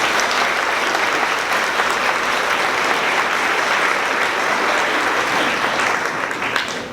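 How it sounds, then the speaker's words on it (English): Loud, sustained round of applause from an audience at an elementary school 5th grade celebration, many hands clapping evenly for several seconds before easing slightly at the end. "Can you give them a round of applause"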